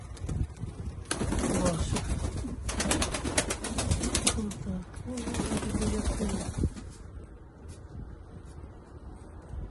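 Pigeons coo in low, soft throaty calls over gusty wind noise, with a few louder bursts in the middle before it quiets.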